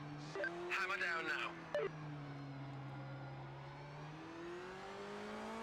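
A race car accelerating in the PS5 sim racing game Project Motor Racing: a steady engine drone with a rising pitch, heard under brief bursts of talk early on, then continuing alone at moderate level.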